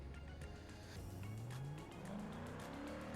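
A Grand Marshal limousine in BeamNG.drive runs a lap, its engine droning steadily with rising pitch as it accelerates, tires faintly squealing, with no talking.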